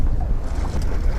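Big ocean waves wash and rumble against a fishing boat at sea, a dense, broad roar mixed with wind buffeting the microphone, continuous and close.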